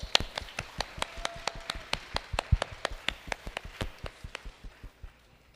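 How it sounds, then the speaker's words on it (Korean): A church congregation claps in a steady, even rhythm of sharp beats, about four per second, which gradually fades out at the end. "우리 하나님께 다시 한번 감사의 박수 드릴까요?"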